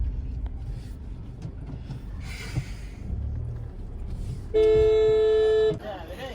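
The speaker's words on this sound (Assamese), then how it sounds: "হৰ্ণ বজান থাকক বেয়া হয়" A car horn blares in one long, loud steady blast, standing out over busy street noise and background voices.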